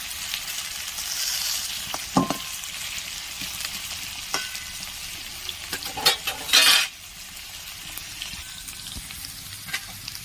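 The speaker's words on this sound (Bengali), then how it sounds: "একদম লাল লাল করে ভেজে নেব।" Potatoes frying in an uncovered pan for a vegetarian ridge gourd and poppy-seed dish, a steady close sizzle punctuated by scraping and clattering strokes of a spatula as they are stirred.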